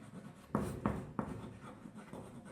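An orange pen writes a parallelogram perimeter sum, with a few firm strokes scratching against the surface, close and fairly quiet, then lighter writing continuing.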